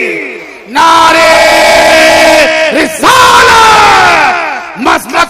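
A large crowd at a religious gathering roars slogans back to a preacher in loud, sustained unison shouts, two long swelling chants separated by a brief gap, with shorter bursts trailing off at the end.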